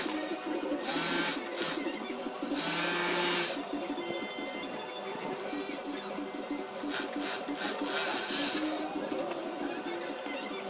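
A Singer 457 zig zag sewing machine runs a stitching test, giving a steady mechanical whir and clatter with bursts of faster rattling throughout, fairly close and continuous.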